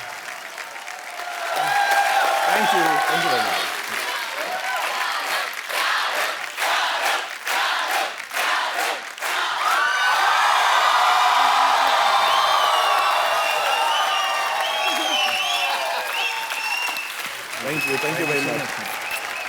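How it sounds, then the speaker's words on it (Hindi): A studio audience at a comedy show's Eid special gives loud applause and whoops for Shah Rukh Khan and Alia Bhatt, with cheering that swells and ebbs while someone speaks over the crowd. "जोरदार तालियां एक बार शाहरुख भाई और आलिया भट्ट के लिए"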